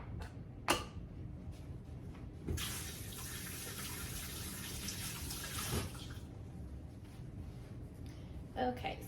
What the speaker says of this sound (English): I'm just going to put some plain tap water in with my chicken legs in my crock pot.